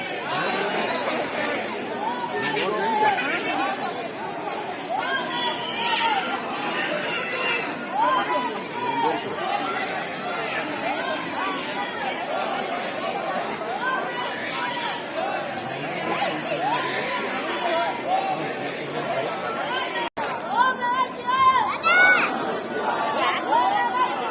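Crowd chatter at Trimbakeshwar temple in Nasik: a steady, dense hubbub of many voices talking at once, fairly loud and close, with brief louder calls near the end.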